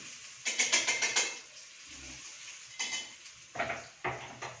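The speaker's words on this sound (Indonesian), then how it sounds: "Oke, sudah mendidih minyaknya. Bawangnya kita masukkan. Bawang merah sama bawang putih tadi." Shallots and garlic go into boiling oil in a pan, with a burst of crackling sizzle and metal clatter from utensils against the pan, then more scraping and clanks in short bursts.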